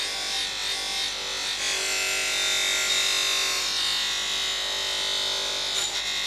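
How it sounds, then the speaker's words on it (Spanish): A metal piece pressed against a spinning buffing wheel for polishing, giving a steady, close, loud whirring rub with a high hiss that shifts in pitch as the pressure changes, and no talk over it. "Lo siguiente que harías sería cogerla de pulir, le das y ya le empiezas a dar el brillo"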